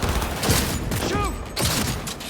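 Gunfire in Cyberpunk 2077, heard as bursts of rapid shots in quick clusters, loud and close, with a voice calling out over the firing.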